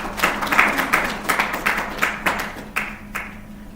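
Audience applause rings out after a presentation at a training roadshow, a burst of clapping with irregular sharp peaks that gradually thins and fades over a few seconds, with no one speaking over it.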